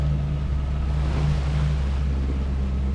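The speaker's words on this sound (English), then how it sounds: "the sails got recovered and the engine started." A sailboat's engine runs steadily after being started, on a foggy, windless North Atlantic crossing between Jan Mayen and Iceland. A constant low droning hum with no change in rhythm carries on throughout, with faint water noise and no talk.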